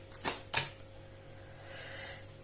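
Two quick, crisp bursts of cards being riffled close by, followed by a soft, low rustle.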